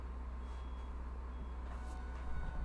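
A truck's reversing alarm beeps outside, faint and distant, with a steady hum in the background and no one talking.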